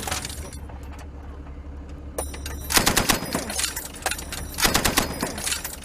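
Soldiers practicing with a machine gun outdoors in Afghanistan, firing two loud, rapid bursts of automatic fire several seconds apart over a low engine rumble.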